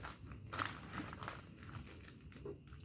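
Plastic sheet crinkles and rustles faintly as it is pulled over a container of liquid holding iron nails, with soft, irregular crackles throughout.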